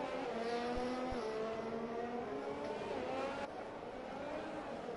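Race car engines from F1 2020 at the Autodromo Hermanos Rodriguez, a faint, steady high-pitched drone with shifting revs and a slight drop in level near the end.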